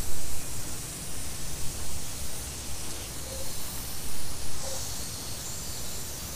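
Water hissing steadily from a garden hose cracked slightly open during a leak test on a Mercury Thunderbolt 500 50 hp outboard water pump, a broad continuous rush with no talk.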